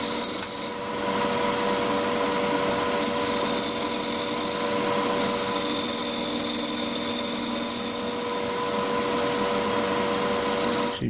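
Continuous scraping and rasping of a Crown 3/8 bowl gouge with an Irish or fingernail grind cutting into spinning wood on a lathe, steady and close over a constant motor hum for the whole stretch.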